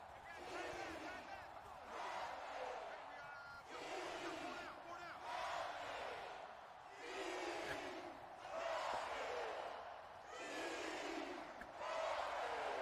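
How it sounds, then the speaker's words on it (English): A roaring video game stadium crowd swells and fades in repeated waves, cheers and shouts blending into a constant loud din with no pause. "Why does that crowd sound like it's drunk?"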